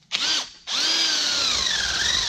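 A cordless drill bores hinge holes in the hatch of an H1 slant back, with a short spin-up, a brief pause, then a long, loud steady whine whose pitch wavers as the bit rocks in the hole.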